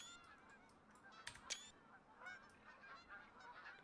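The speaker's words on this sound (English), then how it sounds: "With the geese in the background." Geese honking in the Call of the Wild hunting game, several faint, distant nasal honks scattered over a quiet outdoor ambience, with no talking.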